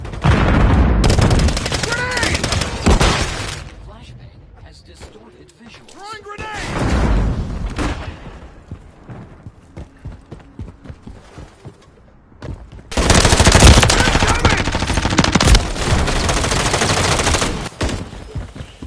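Heavy automatic gunfire from Modern Warfare 3 multiplayer comes in loud, dense bursts at the start and again in the final stretch, with a quieter gap between them where a voice speaks over fainter shots.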